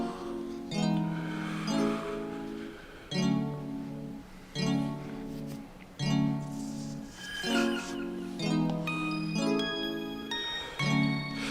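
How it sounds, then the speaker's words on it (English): Spacey, ethereal synth pad preset called Space Dreams from the Purity VST, playing a demo track with swelling chords in a steady rhythm and bright chiming bell tones rising near the end; no voices. "this is the Purity Space Dreams. We'll be using this preset to make a track."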